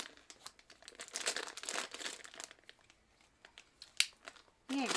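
A plastic snack bag crinkles and rustles in rapid bursts as it is pulled open close by, followed by a short, quiet pause and a brief voice at the end.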